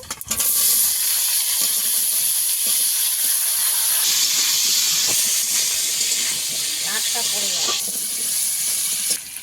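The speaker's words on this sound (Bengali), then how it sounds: "আলুটা কিছুক্ষণ ভেজে নেব আমি" Potatoes frying in hot oil with dried red chili and cumin, a steady loud sizzle and hiss running throughout with occasional stirring scrapes, close up.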